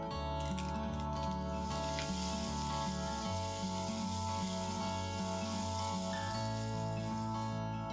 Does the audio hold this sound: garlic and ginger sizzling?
yes